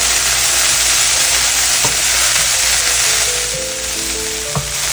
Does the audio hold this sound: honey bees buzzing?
no